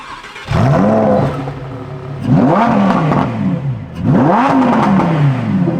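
Three loud bursts of a Ferrari engine revving outside, each rising and falling in pitch, heard in quick succession with a deep, throaty roar, from inside a silent VW ID Buzz.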